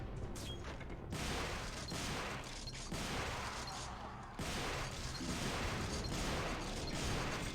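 Shotgun blasts fire repeatedly in the Devil May Cry video game, a loud, dense run of booming shots and crashes layered closely over each other with barely a pause.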